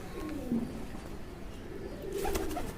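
Pigeons housed in a crate give a few soft, low cooing calls at moderate distance, with faint chirps and light background rustle between them.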